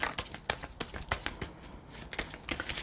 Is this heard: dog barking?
no